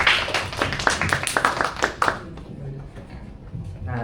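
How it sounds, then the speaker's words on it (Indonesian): Audience clapping in welcome for two guest speakers at a public speaking and presentation session, a burst of hand claps for about two seconds under an MC's voice, then fading into quieter room noise. "Tepuk tangan dulu dong guys."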